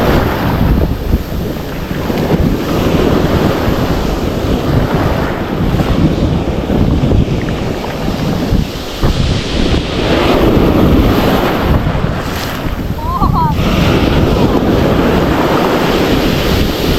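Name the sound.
big ocean waves crashing at sea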